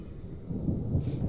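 Thunder rolls as rain approaches in The Isle video game, a low, distant rumble swelling slightly toward the end over a soft wash of rain.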